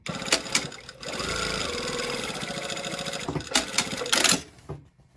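A sewing machine stitches the lining of a garment along a 5/8 seam, a close, steady mechanical whir that runs in two bursts broken by short pauses.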